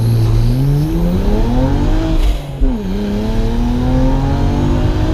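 A twin-turbo BMW 335i pulls hard to 60 mph, its engine note loud and close, rising through the revs, dipping briefly at a gear change, then climbing again, with no talk over it.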